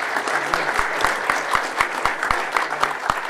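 An audience at a sous vide cooking roundtable claps for the chefs in loud, close, rhythmic unison, the beats falling at a quick regular pace.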